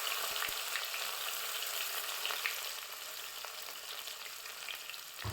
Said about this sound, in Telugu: కరివేపాకు వేసి వేపుకోవాలి.